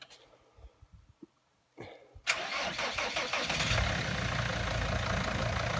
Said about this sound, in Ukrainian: показуємо, як заводиться як працює